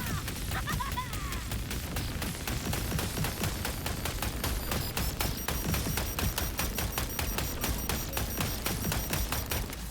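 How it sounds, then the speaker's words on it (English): Rapid, densely packed bursts of fireworks crackle and pop in Wuthering Waves, a loud continuous barrage of sharp repeated blasts lasting around ten seconds with bright sparkling tones layered on top. "Get ready for fireworks!"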